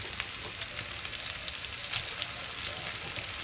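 Fried potato, onion and egg crackle steadily in a pan as chowmein noodles go in. A dense, close sizzle with stirring and scraping runs throughout, and no voices are heard.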